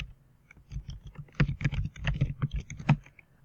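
Typing tags into a WordPress post on a computer keyboard, a close burst of quick irregular key clicks and taps building in density over a few seconds.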